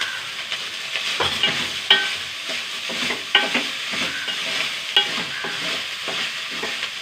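Grated coconut and hot cooked rice stirred in a frying pan for coconut rice, with a constant sizzle broken by repeated close scraping strokes and spatula knocks against the pan.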